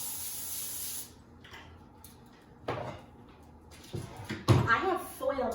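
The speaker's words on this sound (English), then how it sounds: "I'm going to go ahead and spray this with Pam" A can of Pam cooking spray hisses in a short burst onto a foil-lined baking sheet in a home kitchen, followed by quiet clatters and handling sounds, with a person talking nearby.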